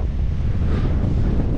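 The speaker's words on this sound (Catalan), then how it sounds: "i quin vent, joder, m'està matant, m'està matant" Strong wind on the Catalan coast buffets the microphone while bikepacking, a loud, steady low roar mixed with surf-like rushing and no speech.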